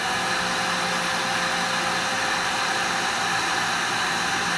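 Hair dryer blowing hot air onto the screws of an EC MK16 airsoft handguard, a loud, steady, unbroken whoosh of fan and airflow with no pauses.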